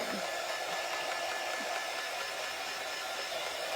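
A hair dryer blows on wet paint on a daisy-themed craft door round, a fairly soft, steady, unbroken airflow roar with no voices.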